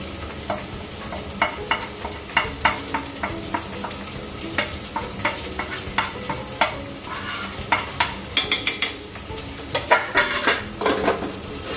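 Dry spices, turmeric, red chilli, biryani masala, coriander-cumin powder and garam masala, frying in a pressure cooker for soybean pulao, with a steady sizzle and frequent sharp spoon scrapes against the metal, no talk.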